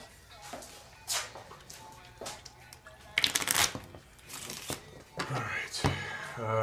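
Playing cards are shuffled in several quick riffling bursts close by, with people talking intermittently around them.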